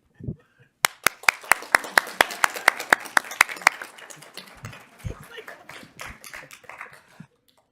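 Rhythmic clapping at a Los Altos city council meeting starts sharply and builds into a burst of applause from a group, then fades out with scattered voices.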